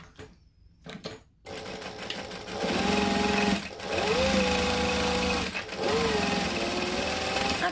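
Close and loud, a sewing machine stitches a bag, starting with a few short bursts and then running in long sustained stretches with brief pauses between them.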